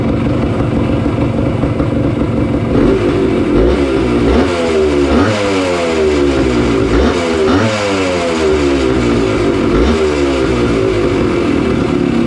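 A green Yamaha enduro motorcycle, just kick-started, idles roughly and then revs up and down in repeated rising and falling bursts, loud and close with no talking.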